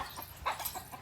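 Short clucks from a chicken at a village Bonalu celebration, a few soft separate calls close by over quiet background noise.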